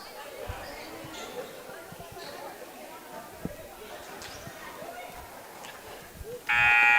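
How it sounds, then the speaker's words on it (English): A loud, sustained electronic basketball game-end buzzer cuts in near the end, blaring over steady crowd chatter and scattered gym noise at a boys' high school game. "the buzzer sounds, so ends the ball game"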